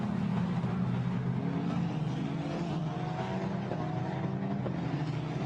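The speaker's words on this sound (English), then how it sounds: "now the cars accelerate their way up towards the Imola chicane" Formula Renault Eurocup race cars accelerate on the Magny-Cours circuit, several engines whining and rising in pitch together in a loud, continuous drone with a trackside announcer's voice partly under it.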